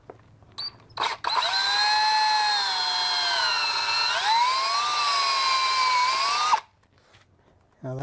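A power drill bores 3/16 shank holes for screws in wooden garden hurdles. It starts with a couple of short bursts, then whines steadily for about five seconds, dipping briefly in pitch as it bites into the wood, and stops abruptly.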